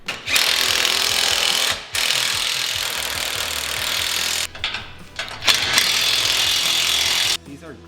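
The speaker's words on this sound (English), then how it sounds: "So now I can tighten up these side mounts here." Power tool tightening grade 10.9 side-mount bolts on a Razorback Offroad expedition roof rack on a Polaris: a loud, sustained close-up whir in long bursts, with brief pauses and a few clicks between runs.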